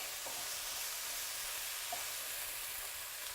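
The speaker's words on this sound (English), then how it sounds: "added my onions in, and I'm going to soften them down. Now I'm going to add in my tomatoes" Chopped onions and chunky tomatoes fry in a pan for a green shakshuka, giving a steady, quiet sizzle with a couple of soft stirring scrapes and no talking.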